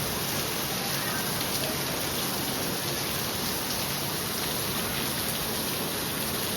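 Heavy rain pours down in a dense, unbroken hiss that stays at the same loudness throughout, with no talking.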